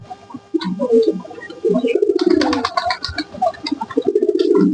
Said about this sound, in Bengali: কবুতরকে আসলে খিচুড়ি ভাত খাওয়াবো